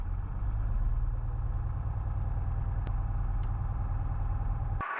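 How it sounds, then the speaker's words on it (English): A 1967 Cessna aircraft engine idles on the ground, a loud, steady low rumble with a regular pulsing beat and a couple of sharp clicks. "Go to idle. Plane is idling."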